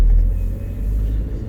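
A 1.8 diesel car engine runs with a deep, steady low rumble, heard close and without talk.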